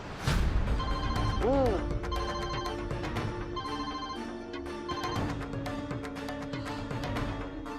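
A phone ringtone trills repeatedly at moderate volume, with a short melodic tone pattern and faint background voices.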